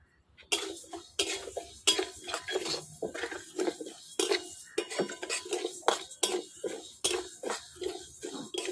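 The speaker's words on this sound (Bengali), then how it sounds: "শুকনো খোলাই মুগের ডাল ভাজবো।" Mung dal being dry-roasted in a pan for a village-style Bengali dish, stirred with metal utensils: a steady run of sharp scraping clinks and rattles, close and fairly loud, with no talk.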